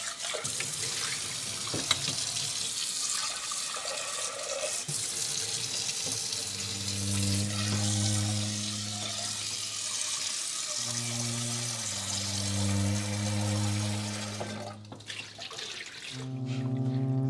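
Tap water runs into a sink while a pot gets a light wash, a steady splashing flow with shifting tones as the pot fills and moves under the stream, close and alone.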